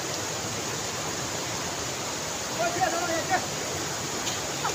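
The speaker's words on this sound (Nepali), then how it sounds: "त्यस खोलामा यस्तो ठुलो खोला छ अन्त यस्तो निलो खोला छ" A large blue river rushes past, a steady broadband roar of flowing water filling the whole scene, with a few faint brief sounds rising over it near the end.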